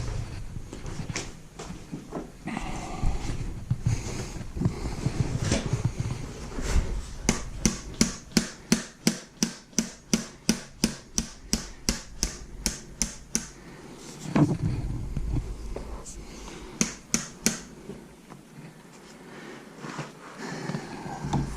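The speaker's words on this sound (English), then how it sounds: "Let me grab a hammer back here." A hammer strikes a DIY kayak camera mount in a fast series of sharp metallic taps, played in two bursts with quieter handling noise between them and no talking.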